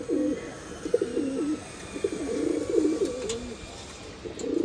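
Pigeons coo in a home loft, a series of low, throaty, rolling coos repeating over a quiet background at moderate distance.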